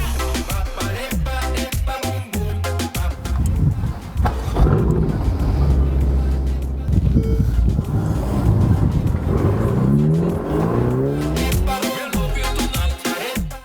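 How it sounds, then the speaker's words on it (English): A Ferrari Portofino's engine fires up with a sharp burst, then its exhaust is revved repeatedly in loud, close surges, with throaty rises and falls continuing over several seconds. "fire it up, listen to that lovely exhaust"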